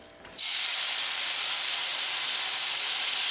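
Sherry poured into a hot pan while making lobster Newburg, bursting into a sudden loud, close, sustained hissing sizzle after a brief quiet start.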